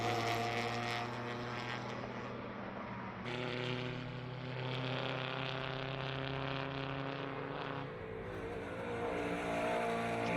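BMW race cars, a BMW 325 and a BMW M3, on a racing circuit with one overtaking the other; loud, continuous engine roar with rising and shifting pitch as the cars pass, no talk.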